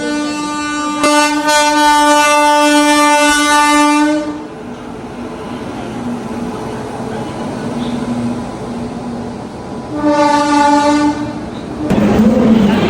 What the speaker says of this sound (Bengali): আমাদের ট্রেন আসি গেছে